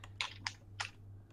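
A few quiet computer keyboard key presses while playing Minecraft, three or four soft separate clicks over a low steady hum.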